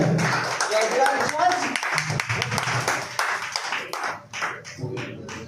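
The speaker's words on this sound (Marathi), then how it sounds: "सगळ्यांनी टाळ्या वाजवायच्या." Crowd clapping in unison at a puja celebration in a housing society, a run of sharp, irregular hand claps with voices talking over and between them.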